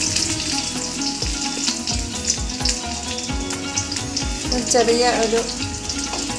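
Mustard seeds, fenugreek and onion sizzle and crackle in hot coconut oil, a steady close frying hiss with popping bursts and stirring, and a voice speaks briefly.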